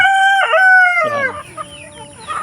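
A native rooster crows loudly and close, and clucking native chickens follow as the crow fades, in a short burst with no speech.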